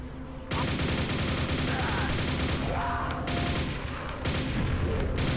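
Rapid blasts of grenade-launcher fire and explosions from the shooter game Quake on Xbox One, loud and near, packed into a dense, continuous barrage.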